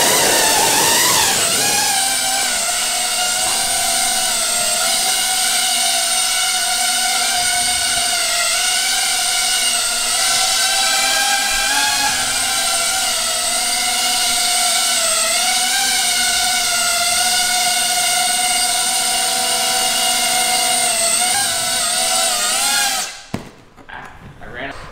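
A hobby-grade drone with a phone strapped to it, whirring with a steady, loud high-pitched rotor whine that holds for about twenty-three seconds, then cuts off abruptly near the end.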